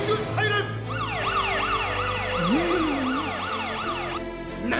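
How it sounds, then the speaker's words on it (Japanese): Anime attack sound effect for the Melting Siren move from The King of Braves GaoGaiGar: a loud, continuous wailing siren sweeping rapidly up and down in repeated cycles, with a rising electronic tone briefly layered in midway. "メルティングサイレン。"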